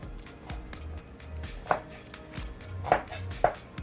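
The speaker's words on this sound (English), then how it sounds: "So I follow the curvature of the onion. And then I go ahead and cut it down like this." A knife slices down through an onion onto a cutting board, making three crisp, separate knocks close by in an otherwise quiet space.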